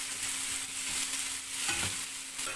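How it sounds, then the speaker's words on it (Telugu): Tomatoes frying in a pan for coriander chutney, with a steady close sizzle and a few scraping stirs of a spoon running through for under three seconds, no voices. "టమోటాస్ అయితే లైట్గా పచ్చివాసన పోయేదాకా చేసుకోవాలి."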